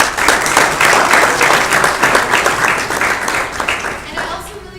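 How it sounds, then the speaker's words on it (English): A convention crowd claps in a loud, dense round of applause that slowly fades, with some voices mixed in beneath the clapping. "I just want to give a round of applause to Monica and her entire cabinet"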